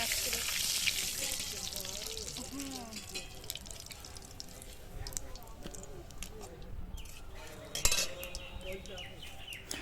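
Two dried red chillies and bay leaves are cut with a metal spatula in a frying pan of hot oil, with sizzling, scraping and clinking strokes and a sharper clatter near the end.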